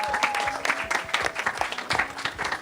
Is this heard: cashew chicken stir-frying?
no